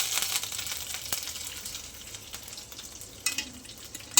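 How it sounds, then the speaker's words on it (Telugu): Curry leaves hitting hot oil for Maggi noodles give a steady crackling sizzle with sharp pops, loud and close, with no voices. "ఇప్పుడు కరివేపాకు వేయాలి ఫ్రెండ్స్"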